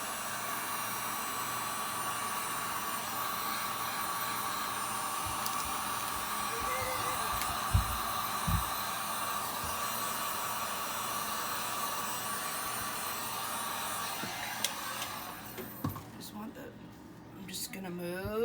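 A heat gun blows a steady, even hiss while warming resin for a geode coaster, running continuously before tapering toward the end.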